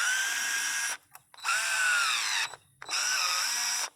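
A Craftsman 4V gyroscopic cordless screwdriver runs in three steady whirring bursts with short pauses between, loosening a hose clamp; the close motor whine dips slightly in pitch under load.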